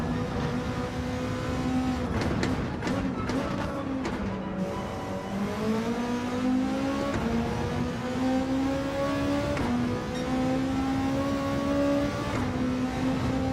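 Gr3 race car in a racing video game on a German track, its engine whining steadily at high revs with rising and falling gear pitches, occasional shifts and brief tire squeal, continuous and close throughout.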